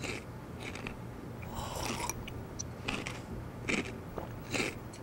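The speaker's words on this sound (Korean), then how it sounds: "지금 뭘 씹고 있어요?" Someone chews food during a meeting, making quiet crunching bites and wet mastication in irregular bursts over a faint room hum, with no speech.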